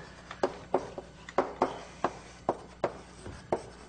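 Chalk writes on a lecture-hall board in an algorithms class: a quick series of about nine distinct tapping strokes in a loose rhythm, close and moderately quiet, with no talking.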